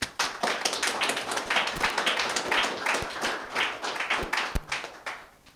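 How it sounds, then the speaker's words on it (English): A live audience at a Canton at Work event claps in a lively round of applause, many hands clapping at close range with sharp individual claps standing out, swelling and tapering unevenly. "So a really big round of applause for Wayne."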